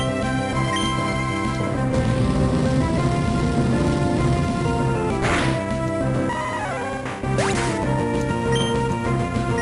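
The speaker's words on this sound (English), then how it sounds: "That is true that it's raining like crazy." Rain falls in the Pokemon Emerald video game, a dense steady hiss under layered game music with a couple of sharp crash-like bursts partway through and no talking.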